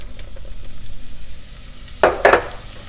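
Onions sizzle gently in a casserole pot that still holds the meat juices. A low frying hiss runs throughout, and two sharp clanks from a utensil against the pot come near the end.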